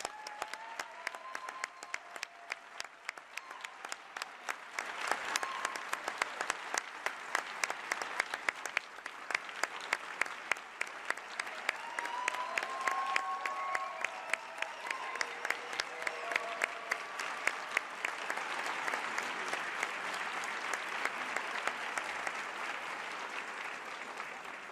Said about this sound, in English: I think that we should give Dr. Barr another round of applause.